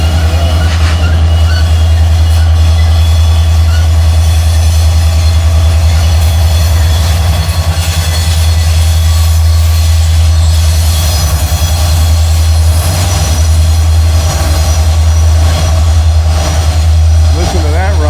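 A long freight train rumbles loudly and without a break around Horseshoe Curve, its deep engine drone steady beneath screeching wheel squeal on the bend.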